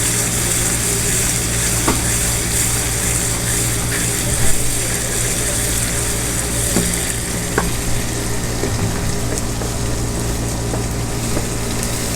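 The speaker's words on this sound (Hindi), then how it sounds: "तो इसको तब तक फ्राई करेंगे जब तक हमारे टमाटर अच्छे से गल ना जाएं।" Tomatoes fry with salt, turmeric, coriander and cumin powder for a mutton dum biryani, giving a steady close sizzle broken by a few scrapes of stirring.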